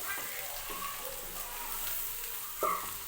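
Garlic dropped into a pan of hot oil while cooking bare paya, a steady sizzle with a brief louder burst near the end.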